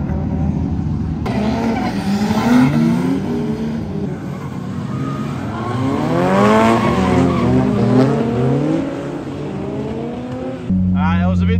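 Drift cars running in tandem with tires squealing loudly in long wavering screeches and engines revving hard, one car spinning out, close and sustained throughout.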